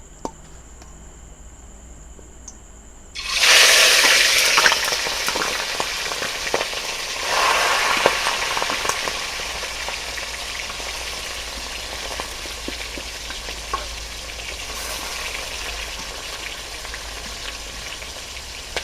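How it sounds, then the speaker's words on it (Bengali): Chicken pieces dropped into hot oil burst into a loud, sudden sizzle after a quiet start, then settle into a steady crackling fry that continues for a long stretch with occasional pops. "এই তেলে আমি মাংসটা ভেজে নেবো"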